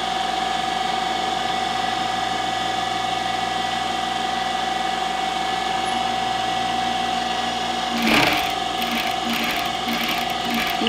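A sewing machine stitches a Christmas placemat with a steady, close mechanical whir and rapid needle clatter that runs throughout, and a brief louder rattle comes near the end.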